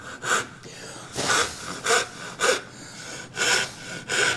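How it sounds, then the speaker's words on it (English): A hand dovetail saw cuts a wooden tenon for a table apron in short, rasping strokes, about seven close strokes with brief pauses between them and no talking. "Now you notice I reached for my dovetail saw."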